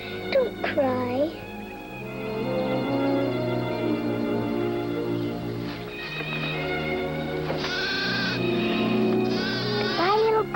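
Goat bleating from a cartoon, wavering cries rising over orchestral music, with a voice speaking partway through.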